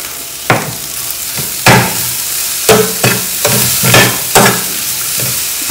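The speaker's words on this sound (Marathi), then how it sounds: "आता मस्त फ्राय होऊ देऊ कमी गॅसवर." Food sizzles on a low flame in a pan, loud and close, with a steady frying hiss and several distinct scraping strokes as it is stirred.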